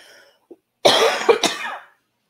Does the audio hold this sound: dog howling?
no